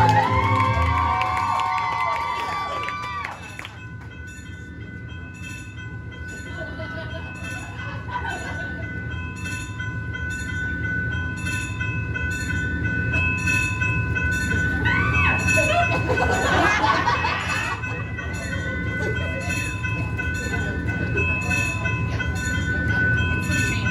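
Valley Line LRT light rail train moving on an opening day, a steady rolling rumble with brief tonal squeals and rising crowd cheering partway through, fairly loud and continuous.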